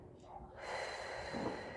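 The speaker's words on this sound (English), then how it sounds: "take a few deep breaths in with me, in through the nose" A slow, deep inhale through the nose during a full moon eclipse ceremony, a soft rising breathy rush lasting over a second, close and fairly quiet.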